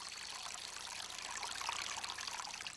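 Water of the Rio Pardo flowing along its course, a steady, dense rushing wash that continues without a break for the whole stretch, with no voices over it.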